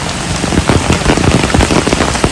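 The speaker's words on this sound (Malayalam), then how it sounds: "ഈ വൈകുന്നേരം ഇപ്പൊ രണ്ടു ദിവസമായിട്ട് നല്ല ഇടിയും മഴയും" Steady heavy rain drums close by on a hard surface during an evening thunderstorm, with scattered louder drops; no distinct thunder stands out.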